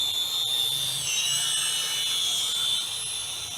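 UDI U42W Petrel quadcopter drone taking off, a steady high-pitched whine of small propellers and motors, close and continuous, with slight pitch shifts as it lifts.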